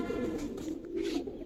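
Giribaz pigeons coo softly in low, rolling, continuous calls at close range, with no talk.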